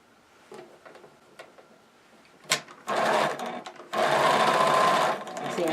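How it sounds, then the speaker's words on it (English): A sewing machine stitches up the back seam of a stocking, with short bursts of clicking and tapping at first, then two longer loud runs of close, fast mechanical stitching. "I'm going to sew up the back of the stocking from top to the bottom."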